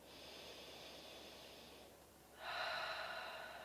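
A slow, deep breath during chair yoga, heard as a long soft inhale, a brief pause, then a fuller, stronger exhale, close and gentle with no talking.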